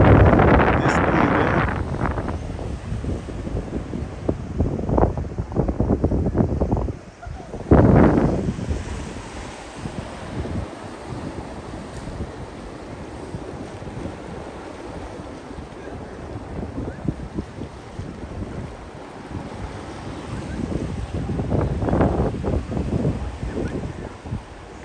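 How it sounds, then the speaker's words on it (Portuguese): Wind buffets the microphone on a beach on Ilha da Pedra in the evening, loud rumbling gusts that rise and fall, with surf in the background. "Tá um barulho, né? O vento."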